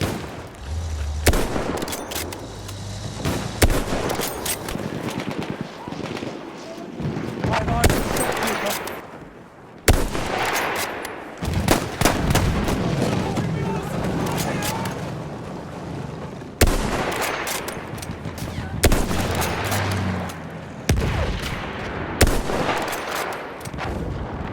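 Lee Enfield rifle fire mixed with other gunfire and explosions in a Battlefield 1 alpha match, sharp repeated shots and blasts in bursts, with a voice talking at points.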